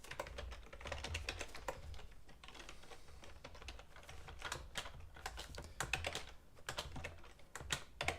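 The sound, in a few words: typing on a computer keyboard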